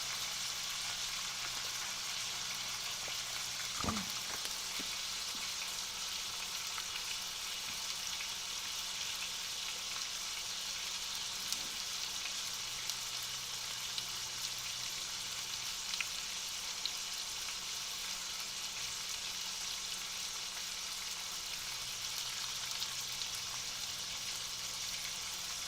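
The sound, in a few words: pork chops sizzling in a pan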